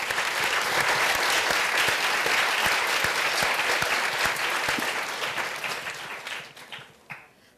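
Classroom audience at a youth leadership class applauding a student, dense sustained clapping at full strength for several seconds before thinning out and fading, with a few last claps at the end.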